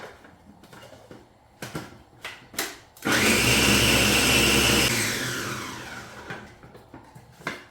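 A kitchen blender whizzes garlic and onion for a Fiji-style fish curry masala in one loud, steady burst of about two seconds that winds down, framed by clattering taps and handling noises before and after.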